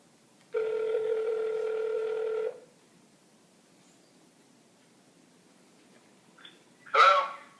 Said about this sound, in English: I'm getting him on the phone right now